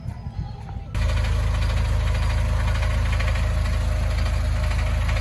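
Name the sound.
amusement park train engine idling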